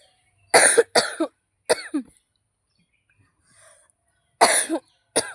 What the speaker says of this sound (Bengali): ভয়েসটা দেওয়ার সময় এমন কাশি উঠলো